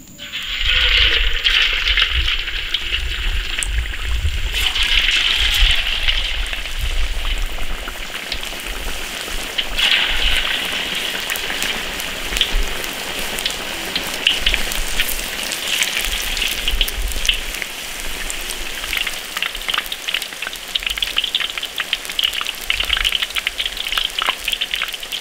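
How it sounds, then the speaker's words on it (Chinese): Fish slices dusted in potato starch deep-frying in plenty of hot oil in an iron wok, a loud, continuous close crackle and hiss like heavy rain, lasting throughout with no talk. "油温起热了，鱼片下锅炸"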